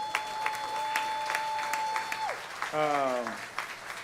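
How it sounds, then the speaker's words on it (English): An audience at a live jazz club show applauds for the performer's family, steady clapping from a crowd under a sustained musical tone and a brief vocal. "give a round of applause to my family here"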